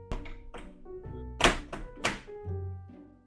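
Knocking on a door in Minecraft: a handful of hollow thunks and taps at uneven spacing, with two sharper, louder knocks near the middle, against a quiet background.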